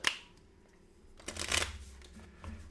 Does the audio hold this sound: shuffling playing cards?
yes